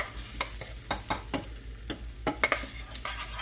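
Meat browning in a pan for tacos, stirred as it cooks: a steady sizzle broken by repeated sharp scrapes and clicks of the utensil against the pan, close and alone without talk.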